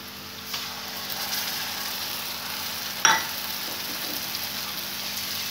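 Masala fries gently on a low flame, giving a soft, steady sizzle close by, with a single sharp metallic clink from a stirring spoon partway through.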